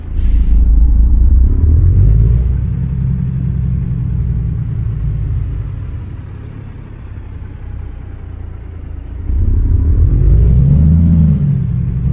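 A truck in American Truck Simulator rumbles with a loud, steady low engine drone, easing slightly mid-way and then swelling again as it drives, with no talk.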